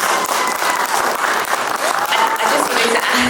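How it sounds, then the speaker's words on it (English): Loud, dense applause from an indoor audience at a UK Zambian community celebration, continuous hand clapping with some crowd voices and cheers close by for the whole stretch. "round of applause please for our beautiful guests."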